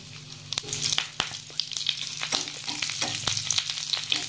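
Mustard seeds, cumin and curry leaves crackle and pop in hot oil while potato vada masala is being prepared, sharp spitting bursts scattered over a steady sizzle, close and fairly loud, with no talk.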